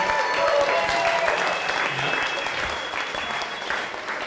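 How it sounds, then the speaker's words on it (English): Guests at a comedy wedding roast give the panel a loud, sustained round of applause, a dense wash of clapping with a few whoops that eases slightly toward the end. "Give them a round of applause"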